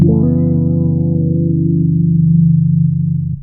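Bass guitar run through a lo-fi wobble effect pedal: a single sustained low note with a pulsing, warbling modulation that holds loud and steady for about three seconds before cutting off.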